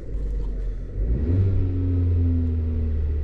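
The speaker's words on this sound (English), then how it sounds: "Let me give it a start." A Volvo V40 1.5 T2 petrol engine cranks and catches, then settles into a steady, close, loud idle with a rising whine as it starts.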